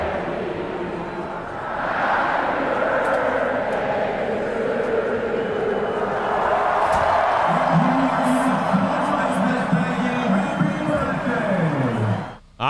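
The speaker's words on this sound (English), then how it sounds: "The entire crowd singing happy birthday" Huge stadium crowd at Folsom Field singing happy birthday together during a game, a broad sustained wash of massed voices with a rising sung melody emerging midway, distant and reverberant, fading out abruptly at the end.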